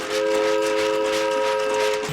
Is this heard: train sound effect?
yes